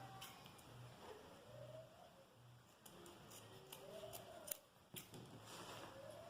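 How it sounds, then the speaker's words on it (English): Scissors trim fabric from a balloon sleeve on an off-shoulder garment being sewn. A handful of crisp, close snips cut through a quiet room with a faint steady hum beneath. "So I'm going to trim this off."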